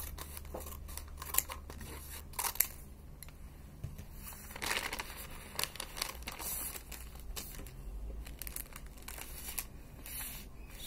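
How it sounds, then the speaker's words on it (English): Scissors cut open a sterile glove packet with faint crinkling and crisp snips of paper and plastic, several quiet cuts and rustles spread across the stretch, close and soft, with no talking. "First of all, you need to cut the packet."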